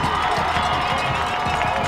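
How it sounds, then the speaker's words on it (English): A high-school football crowd at a Maryville vs Siegel semifinal cheers after a hard hit, a steady, dense roar of many voices that fills the whole stretch without a break. "Kind of got this Siegel crowd fired up a little bit."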